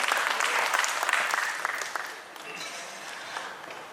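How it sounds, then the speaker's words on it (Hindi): An audience at a mushaira poetry gathering breaks into loud, sustained clapping that peaks early and then gradually thins and fades toward the end. "जोरदार तालियों से इस्तकबाल कीजिए"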